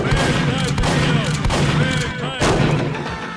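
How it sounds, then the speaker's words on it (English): Shotgun blasts from an SMG4 animated cartoon, a rapid string of loud booming shots crowded together over a busy mix, with voices talking over parts of it. "Really? Shotgun?"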